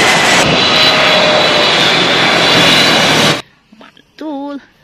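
A loud, steady airplane engine roars close by for a few seconds, then cuts off abruptly, followed by brief quiet and a short voice.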